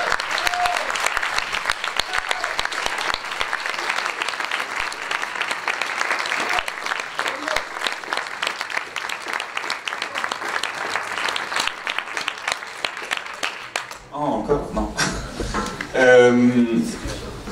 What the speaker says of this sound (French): je pense qu'on va les applaudir à nouveau tous les quatre.